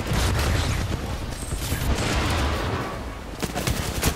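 Heavy gunfire in an Apex Legends professional league match, loud overlapping automatic bursts from several weapons that rumble on continuously, then a few sharper single cracks near the end, with no voices over it.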